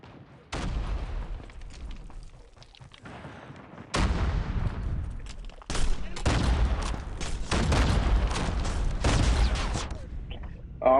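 Thumper grenade launcher firing in Call of Duty Mobile, loud booming shots and blasts in bursts amid dense gunfire and explosions, with a voice talking over the game sounds.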